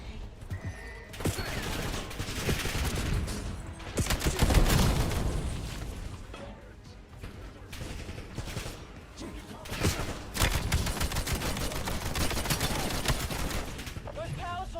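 Gunfire in the Black Ops 7 video game campaign, long bursts of rapid automatic shots and heavy impacts that rise and fall over about fifteen seconds, with voices talking over them.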